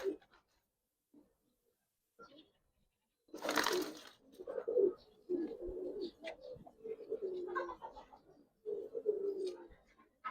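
Giribaz pigeons kept for sale coo softly at close range, with low throaty phrases repeating over several seconds. One brief louder rustle or flap breaks in partway through.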